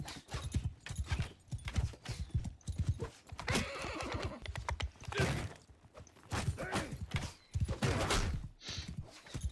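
Galloping horse hooves pound in a rapid, continuous rhythm with occasional whinnies in Mount and Blade Bannerlord, loud and close amid battle noise.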